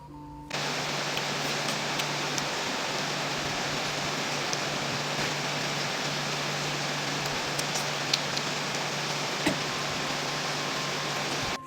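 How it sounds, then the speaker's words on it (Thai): Heavy rain pours steadily onto a roof in a rural Lao/Thai-Isan setting, a dense, continuous hiss that stays loud and unbroken throughout, with no voices. "มื้อนี้ก็ฝนตกแฮงเป็นแฮง"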